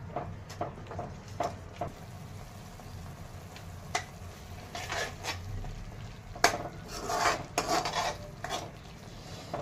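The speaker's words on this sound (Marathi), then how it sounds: "खोबरं लसूण कांदा अद्रक हे बारीक करून घेतलेलं आहे. हे तेलामध्ये परतून घ्यायचं." Grated coconut, garlic, onion and ginger are stirred and sautéed in oil, giving a soft continuous sizzle under scattered scrapes and clinks of a spoon against the pan.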